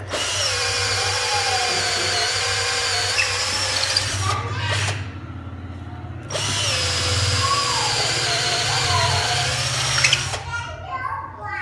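A Hitachi cordless drill whines in two long bursts with a short pause between them, close and loud, its pitch shifting slightly as it spins, with a brief quiet gap and small clicks.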